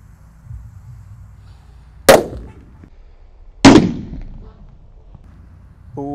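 Firecrackers set off inside a hole in the ground give two sharp, loud bangs about a second and a half apart, each trailing off in a short rumble over quiet outdoor background.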